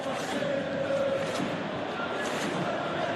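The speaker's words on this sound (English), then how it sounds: "you can hear how the crowd are reacting to this too." In a football video game, a steady stadium crowd roar fills the whole stretch evenly, with a faint rise of cheering in the middle.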